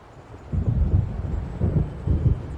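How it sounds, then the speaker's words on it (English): Thunder from an approaching storm in Alan Wake Remastered rolls in low, deep rumbling bursts, three swelling waves over a quiet background. "It seems there's a storm coming."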